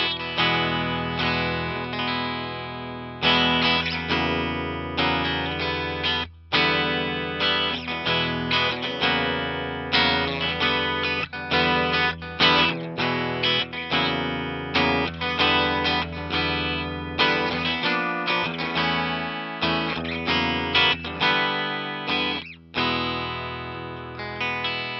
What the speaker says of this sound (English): So we have this Electro Voice EVM12L speaker installed, and just first blush, it sounds freaking awesome.